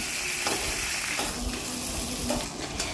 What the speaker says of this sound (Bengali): এবার মাছের মাথাটা দিয়ে এটাকে একদম ভালো করে ভেঙে দিচ্ছি